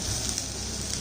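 Chopped beans, carrots and cauliflower sautéing in a pan for a weight-loss soup, giving a close, steady sizzling crackle throughout the short moment.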